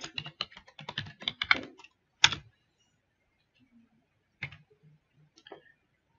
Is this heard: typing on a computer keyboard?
yes